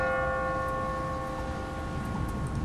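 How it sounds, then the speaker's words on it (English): In The Walking Dead video game, a church bell rings from a bell tower, a sustained metallic tone that hangs steadily over a dense background rumble with no voices. "What kind of church bell goes off at 20 past the hour?"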